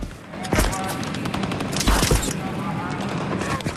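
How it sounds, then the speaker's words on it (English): Gunfire strikes a wall that Marines are sheltering behind, a dense battle sound effect of rapid overlapping shots and cracking impacts, loud and continuous with heavier bursts throughout. "Gunfire hits the wall the Marines are taking cover behind."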